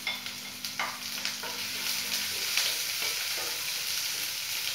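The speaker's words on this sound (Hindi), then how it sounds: "अदरक डालने के बाद थोड़ा सा लहसुन है, इसको भी मैं डाल देती हूँ।" Garlic and ginger frying in oil in a pan for homemade paneer chilli, a continuous hissing sizzle with light stirring clicks early on, close and without voices.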